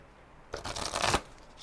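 Tarot cards are shuffled for a reading in one quick riffling burst of about half a second, close and distinct against a quiet room.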